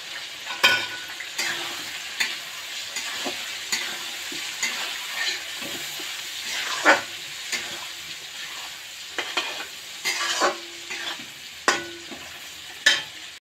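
Potatoes fry in a pan with lightly fried onions and turmeric, a soft steady sizzle broken by repeated scraping and clinking stirs at irregular intervals, close and moderately quiet.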